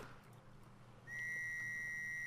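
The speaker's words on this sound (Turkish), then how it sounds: "Artık düdük çalabiliyoruz." A steady, piercing whistle from the Stranded Deep survival game sounds alone and sustained for over a second after a brief quiet, low background rumble.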